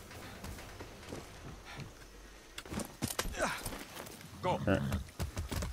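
Horse hooves clopping in the video game Far Cry 6, a few quick, uneven hoof beats mixed with game sounds under someone talking over them.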